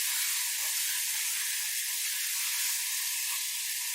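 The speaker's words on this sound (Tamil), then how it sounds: "இப்போ நறுக்கி வச்சுருக்கிற தக்காளியை சேர்த்து நல்லா வதக்கணும்." Chopped tomatoes sauté with onions in a pan for a prawn thokku, giving a steady, loud sizzle and hiss that runs without a break and carries no talking.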